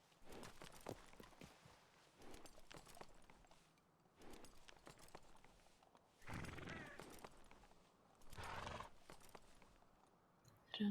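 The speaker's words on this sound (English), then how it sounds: "I think I heard a horse." Horse in the Western game Red Dead Redemption 2, heard as quiet clip-clopping hooves in separate bursts with snorts and whinny-like breaths, fairly faint and spaced out, with no talking.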